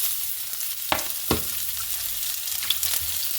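Ginger and garlic frying in a tablespoon of oil in a pan for liver fry, with a steady broadband sizzle and a couple of sharp stirring clatters from a utensil, close and moderately loud, no talking.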